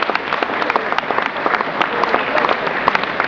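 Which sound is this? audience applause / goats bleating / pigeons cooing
audience applause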